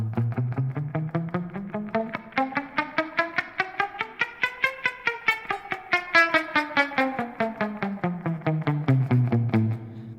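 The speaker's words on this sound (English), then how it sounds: "I've got just the tiniest bit of reverb on there that'll help you keep pace" Steady alternate picking on an electric guitar with slight reverb, notes climbing up a scale and back down in an even rhythm, with a light reverb tail.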